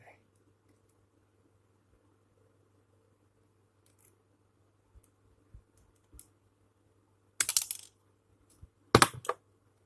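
Near the end, a tape measure is cut with two sharp, close snipping bursts that follow a few faint clicks in a quiet room.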